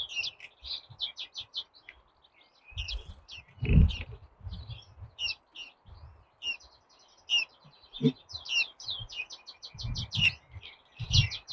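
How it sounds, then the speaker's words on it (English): Wild birds chirp and tweet with bright, repeated short calls through the scene, a male bird perched on top among them, with low bumps and handling thumps scattered underneath. "I'd really like to try and get a better shot of these birds for you."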